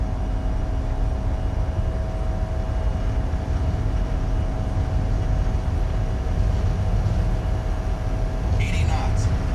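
Airliner jet engines spooling up in a flight simulator: a steady, loud engine roar and whine with a constant tonal hum, heard under someone talking.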